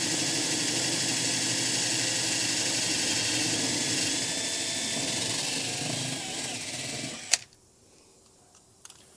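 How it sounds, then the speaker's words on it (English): A power drill whines steadily at close range for several seconds, drilling through the bed edge of a Chevy 2500 truck, then cuts off abruptly with a clack, leaving near silence. "we're going to drill up through the drill template and through the bottom of the edge of the bed"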